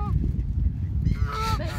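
A short nasal honk from a duck or goose near the end, over a low rumbling wind-like background.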